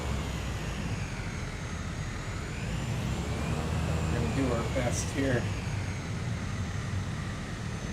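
A steady airplane engine drone in Microsoft Flight Simulator, played during an Iceland bush trip as the aircraft taxis and turns, holds constant throughout while someone talks over it.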